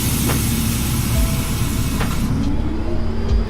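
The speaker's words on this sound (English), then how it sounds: "This is a Coney Island bound Q local train." A New York City Q local subway train running loudly toward Coney Island, a continuous rumble with rattling wheels and a few sharp clanks over steady roar.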